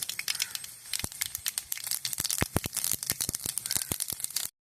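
Mustard seeds splutter and pop in hot coconut oil in a clay pot, a dense run of sharp, close crackles that fire irregularly and rapidly, then stop abruptly.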